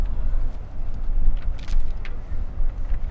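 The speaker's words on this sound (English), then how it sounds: "You can just tell how windy and frigid wind this is." Gusty, frigid wind at a baseball field buffets the microphone with rumbling low-end roar and brief hissing bursts, loud and continuous throughout.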